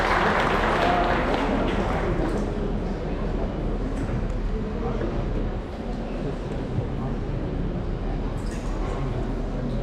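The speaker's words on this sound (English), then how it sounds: "Big round of applause for him." A design event audience applauds a speaker at Spread Design Barn, with dense, steady clapping that fills the room for the whole stretch, loud and continuous, with crowd noise blended in.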